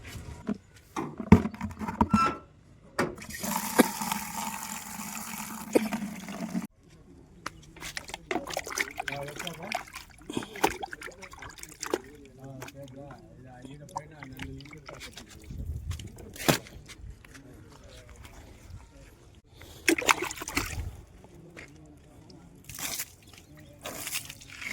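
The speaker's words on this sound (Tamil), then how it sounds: "இப்போ வண்டி வாஷ் பண்ண போகிறோம்." Water spraying and splashing over a vehicle during a wash, coming in uneven bursts and trickles with pauses between them, while people talk over it throughout.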